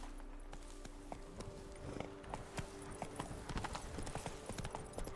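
Hooves of Geralt's horse Roach in Witcher 3 clip-clop steadily as the mount trots up and arrives, a quiet run of game footfalls with no talking over them.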